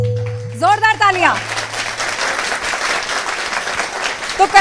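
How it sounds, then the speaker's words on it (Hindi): After a sung phrase at a Diwali celebration with a well-known singer, a crowd bursts into loud applause, many hands clapping densely and steadily until the end. "जोरदार तालियां।"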